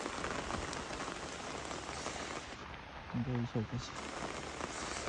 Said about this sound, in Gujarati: અને વરસાદ કેટલું બધું પડે છે.